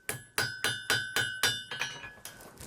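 A blacksmith's hammer strikes high-carbon steel being shaped into the cutting bit of an 18th-century-style frontier tomahawk, ringing in about eight evenly spaced metallic blows, loud and close, the last few softer and quicker.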